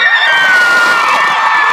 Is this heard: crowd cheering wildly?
yes